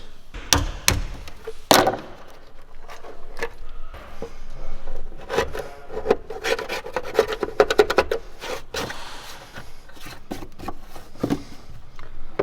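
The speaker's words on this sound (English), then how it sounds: "We're just going to cut this section out" A section of a Ford Focus Mk3 RS body is cut out in a workshop for a K-brace installation, giving irregular sharp knocks, raps and scraping, rubbing strokes at close range with no talk.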